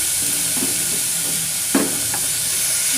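Beetroot, carrots and other chopped vegetables sizzle and fry steadily in a pan, with a few louder stirring scrapes partway through.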